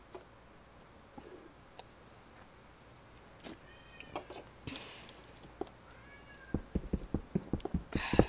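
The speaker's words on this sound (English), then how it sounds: "my kitty cat. Meow, meow, meow, all day long" A pet cat meows a few times at a distance, faint harmonic cries over a quiet room, followed near the end by a rapid burst of close tapping or clicking sounds.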